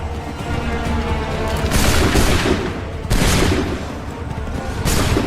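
Musket volleys crack out in the Assassin's Creed III Remastered game, three loud rolling bursts of massed gunfire spaced a second or so apart over a rumbling battlefield.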